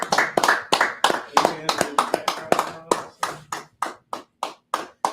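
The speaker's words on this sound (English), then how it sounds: "Let's clap it up." A run of sharp hand claps from a podcast host, loud and close, at first quick and irregular, then settling into a slower steady beat of separate claps with gaps between them.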